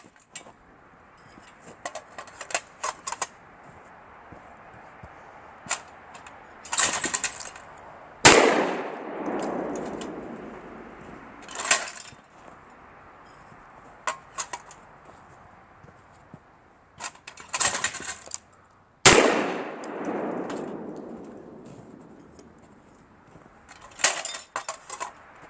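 Two loud, sharp blasts from a Lynx12 AK shotgun at a training range, about eleven seconds apart, each trailing off in a rumbling echo, with metallic clanks and clicks of handling scattered between them.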